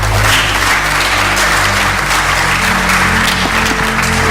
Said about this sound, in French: je voudrais une fois encore vous prier, mesdames et messieurs, d'applaudir très fort l'ambassade des États-Unis